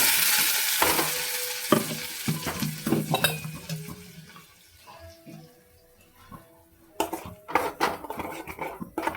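Curry leaves sizzle and crackle in hot oil in a pan while a utensil stirs and clinks against metal, with scattered clatter of pots and spoons.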